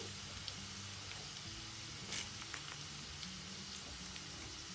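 Chana dal and urad dal frying in hot oil, a steady soft crackle and sizzle with scattered pops over a low background hum, no talking.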